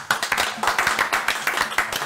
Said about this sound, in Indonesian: Oke, tepuk tengah.